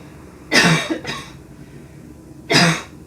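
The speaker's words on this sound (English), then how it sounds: "I'm going to cough again" Two sharp coughs from a nearby person, the first a quick double, the second a single burst a moment later, with quiet between.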